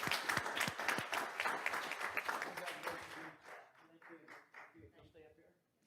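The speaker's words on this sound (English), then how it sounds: "Give them a round of applause." A crowd at a school board meeting claps and applauds loudly, the clapping gradually thinning and fading out toward the end.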